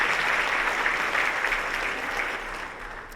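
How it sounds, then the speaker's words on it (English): A conference plenary audience gives a sustained round of applause for exhibitors at a homeless health care gathering, a dense even wash of clapping that slowly tapers off. "So let's give our exhibitors a round of applause"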